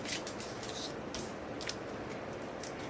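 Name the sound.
peeling backing paper off sticky foam strips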